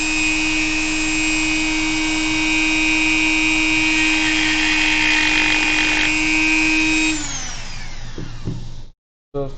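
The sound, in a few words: Dremel rotary tool at 15,000 RPM melting plastic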